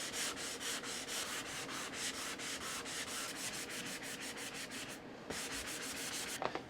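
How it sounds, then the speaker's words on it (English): A bamboo cutting board gets a light hand sanding with 180-grit paper along the grain, soft rhythmic scratchy strokes repeating steadily, close and quiet, with a brief pause near the end. "I'm just going to give this a really light sand. I'll use the 180."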